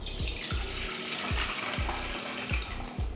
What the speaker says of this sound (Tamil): நம்ம அரிசி கழுவுற மாதிரி கழுவிட்டு இப்போ தண்ணியை வடிகட்டிடலாம்.